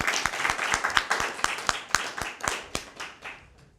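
Rhythmic hand claps from an audience at a Christmas Bible quiz event, with sharp evenly spaced strikes falling about four times a second in steady unison and fading slightly toward the end.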